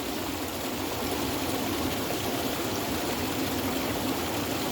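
Stream water flows under a log in a steady, broad rushing hiss that stays even throughout, fairly close, with no voices.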